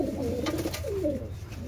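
Pigeons coo in a loft, a few soft rolling throaty calls close by, one overlapping another, with no other sounds competing.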